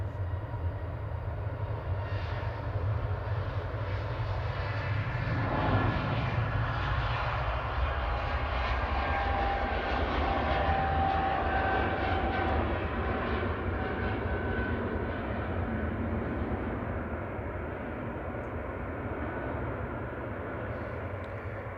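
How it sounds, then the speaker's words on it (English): British Airways shuttle airliner on its takeoff roll at Manchester Airport, bound for London Heathrow, a loud sustained jet engine roar that builds and then slowly fades into the distance, with no voices. "BA shuttle on the roll back to London Heathrow, GTTNW, flight 1375."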